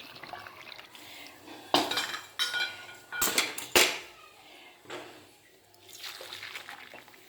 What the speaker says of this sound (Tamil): 2 பாத்திரம் வெந்நி விட்டாச்சு